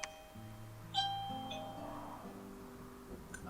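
A doorbell rings indoors with a few quiet chime tones, faint and distant, heard alone with no talking over it.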